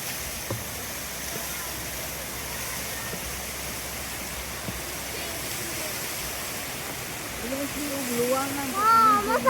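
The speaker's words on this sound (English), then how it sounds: "look at that natural spring." Water rushing steadily at a natural spring feeding into a river near a bridge in Dumaguete, a continuous broadband flow heard fairly close, with people talking over it toward the end.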